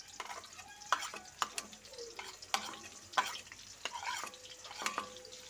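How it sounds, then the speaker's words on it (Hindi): Chopped onions fry in oil with crackled cumin, a soft sizzle under repeated sharp scraping stirs of a spoon against the pan, close and fairly quiet. "ऑनियन को हल्का भूनना है हमें, ज़्यादा डार्क कलर नहीं करना है"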